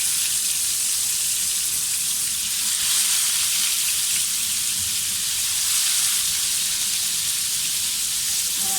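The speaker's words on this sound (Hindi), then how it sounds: "तो आए अब इसे शैलो फ्राई करते हैं" Chicken malai boti sticks shallow frying in a few spoonfuls of hot oil give off a dense, even sizzle that stays loud and close throughout with no talking.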